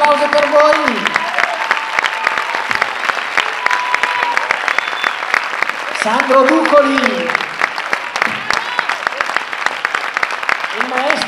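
Audience at a middle school in Sovere applauds its school orchestra, Orchestra Bequadro: loud, steady clapping fills the whole stretch while someone speaks over it through a microphone.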